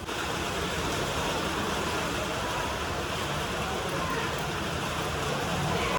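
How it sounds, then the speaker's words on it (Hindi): Steady, dense rain pours down without pause, a broad hissing wash with a low rumble underneath, constant and close throughout. "और अभी बारिश की गर्जना सुनो आप लोग।"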